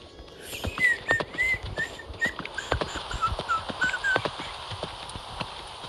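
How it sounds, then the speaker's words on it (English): Horse sounds in a Roblox obby game: rapid clip-clop hoofbeats with a thin whinnying call, close and fairly loud, continuous over several seconds. "It's actually making a horse sound."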